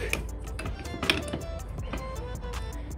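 A hydraulic floor jack part being tightened back into place after a fluid leak repair, heard as a steady run of small metallic ticks and clicks at close range over a low background hum.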